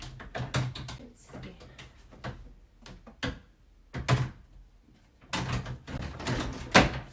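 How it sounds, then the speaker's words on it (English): Wooden dresser drawers slid back into their frame, giving a series of close sliding scrapes and dull thunks in bursts, with someone talking between them. "We're going to get these drawers back in."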